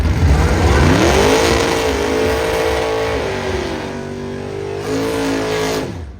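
A 2005 Ford Mustang launches at a drag strip, its engine roaring loud and close, climbing through a steady rising pull with a brief dip and a second surge near the end.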